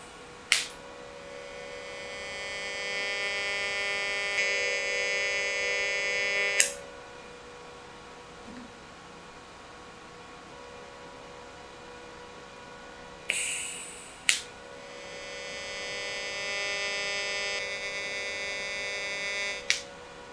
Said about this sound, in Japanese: これを今からパルス溶接で、溶接していきたいと思います。